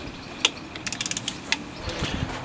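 A ratchet undoes Torx T30 bolts on a VW Passat TDI intake manifold, making a quick run of close, crisp clicks with a few sharper knocks.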